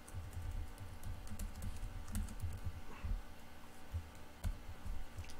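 Steady typing of Python code on a computer keyboard, a close, continuous patter of key clicks with occasional louder strokes over a low hum, no voices.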